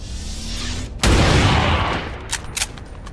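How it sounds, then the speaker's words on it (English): A purifier explodes under gunfire in the video game XCOM 2, bursting into one sudden loud blast with a rumbling tail that fades, followed by a couple of sharper cracks. "let's try and get the purifier to explode"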